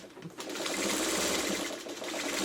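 A sewing machine runs steadily as it stitches across a quilt, back-stitching at points; the motor's whir is close, loud and nearly continuous with a brief dip near the end.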